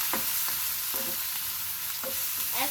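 Cumin paste, turmeric, coriander and chili powders frying for a Bangladeshi karfu fish bhuna, a steady loud sizzle with several spoon-stirring scrapes against the pan, no voices.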